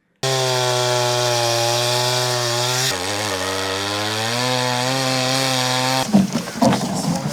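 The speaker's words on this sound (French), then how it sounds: "cette douce mélodie de tronçonneuse" A chainsaw cuts into the ice of a frozen lake, a loud continuous buzzing drone held close by for several seconds, dipping in pitch as it bites, then breaking into rough grinding as the cut ends.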